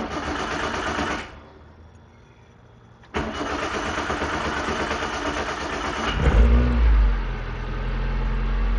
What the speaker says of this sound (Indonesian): Mesinnya kategori halus, RPM stabil ya